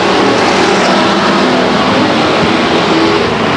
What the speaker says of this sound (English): along with Mike Graham, looking for green from John Moreland, and we've got it.